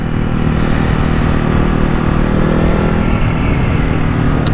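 A Ducati Hypermotard 950 SP riding at steady speed, its engine a loud continuous drone mixed with heavy wind rush close to the rider, unbroken throughout.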